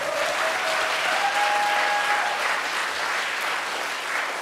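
A full audience at a live Korean traditional performance concert applauds steadily, a dense and even wash of clapping that holds at the same loudness throughout with no speech over it.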